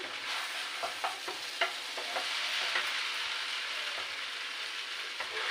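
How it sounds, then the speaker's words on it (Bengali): Chow mein is stirred and tossed in a sizzling pan, with repeated scraping strokes and soft clinks over a steady frying hiss, close and alone with no voices. "এইগুলো খুব ভালো করে নাড়াচাড়া দিয়ে নেবো"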